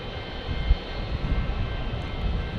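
A British Airways airliner roars past at an airport in San Diego, a steady broadband jet rumble at moderate distance, continuous and unbroken with no voices over it.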